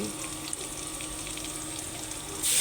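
Washed masoor lentils going into lightly fried masoor dal spices, a steady close wet sizzle and bubbling hiss that swells louder at the end as the dal hits the pan.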